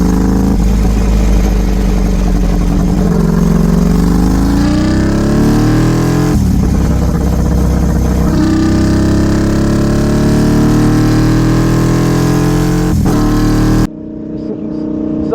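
Ducati 1199 Superleggera motorcycle engine runs loud and close throughout, its revs rising and falling in sweeping pitch changes, then cutting off near the end.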